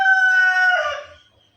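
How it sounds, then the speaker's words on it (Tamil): A backyard chicken gives one loud, drawn-out call that rises and then trails off with a brief falling end. It is close by and heard alone, with no talking. "அது கோழி வந்து கொக்கரிச்சிட்டு இருக்கு பாருங்கள்"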